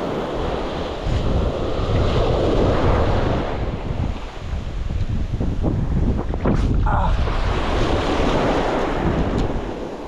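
Wind buffets the microphone in a roaring rush on a beach while fishing, with surf washing in the background; the gusts rise and fall over a steady noisy bed.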